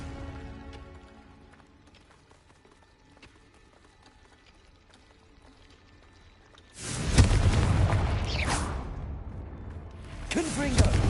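A Confringo blasting spell goes off in Hogwarts Legacy, a sudden loud burst after a quieter stretch of game sound, then a roaring blast tail, and a second explosive surge near the end.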